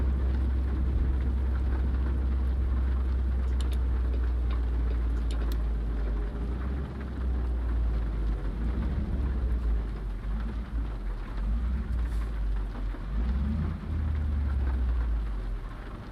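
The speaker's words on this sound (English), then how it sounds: "it's storming though" Heavy rain during a thunderstorm in Colorado, a steady dense wash with a deep low rumble underneath throughout.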